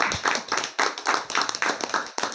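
Audience clapping for a woman named Veena, a burst of many hands applauding steadily with uneven loud surges, fairly close and continuous for a couple of seconds with no talk over it.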